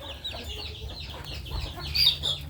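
A chicken clucks nearby in a series of soft, uneven calls, rising slightly louder toward the end, over a low background hum.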